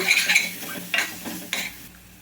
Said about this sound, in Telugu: ఒక సెకండ్ పాటు ఇట్లా కలుపుకోవాలండి